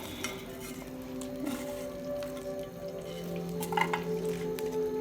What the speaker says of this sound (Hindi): और इसको थोड़ी देर ब्राउन करें घी में।